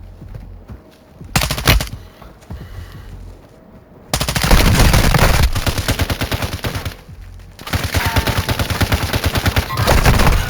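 Rapid gunfire in the Roblox game Jailbreak, loud bursts of automatic shots filling most of the stretch, with a short opening pop and a brief pause midway before the firing resumes.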